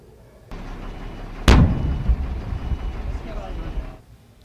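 A controlled detonation of bombs near a football ground lands as one sharp, heavy blast, followed by a rumbling roar that slowly dies away over several seconds.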